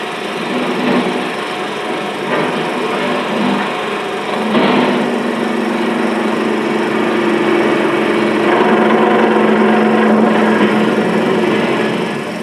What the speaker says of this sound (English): Our machines grind and turn to the finest tolerances